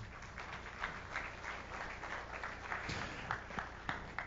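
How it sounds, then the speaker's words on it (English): An audience at a fintech conference panel gives moderate applause, a steady wash of clapping heard from within the hall with a few sharper claps standing out. "This is the moment where you clap."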